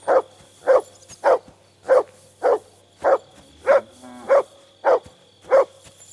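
Dog in Kingdom Come: Deliverance II barking steadily, about ten evenly spaced close barks at a regular rhythm, clear over quiet background.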